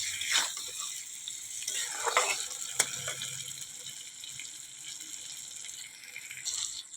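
Water poured into a prawn and potato curry cooking in a pan brings bursts of splashing and sizzling, with scattered clinks and stirring between quieter simmering stretches.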